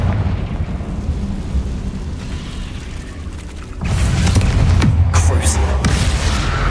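Confringo blasting spell explosions in the Hogwarts Legacy video game, a rumbling backdrop that swells into a louder sustained burst of booms and crackles partway through.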